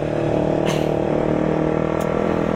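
A motorcycle fitted with a CLD Monster slincer exhaust idling with a light, steady rev, a loud close drone holding constant with a couple of brief mechanical ticks.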